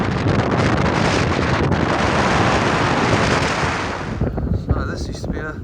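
Strong wind roars across the microphone on a Hadrian's Wall hike, a steady loud buffeting rush that eases near the end, with no talk.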